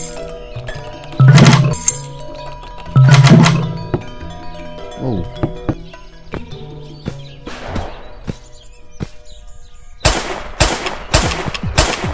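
Gunfire at a firing range in the VR game Gorilla Tag, sharp bursts of shots in clusters with metallic clinks and clacks between them, loud and close.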